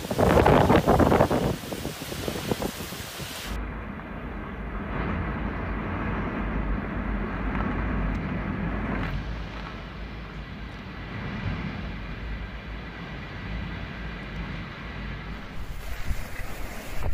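Typhoon Nanmadol's winds lash Kyushu, Japan, as a steady loud roaring rush with heavy gusting noise and a rumbling low end, opening with a sharper burst of buffeting.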